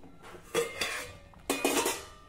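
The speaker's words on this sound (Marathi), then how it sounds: "आता आपण यावर झाकण ठेवू आणि मंद आचेवर हे पिठलं 3 ते 4 मिनिटांसाठी व्यवस्थित शिजवून घेऊ।" Metal lid set onto a pot of simmering pitla, two distinct clanking, rattling contacts close by, each ringing briefly before fading, with a low background hiss.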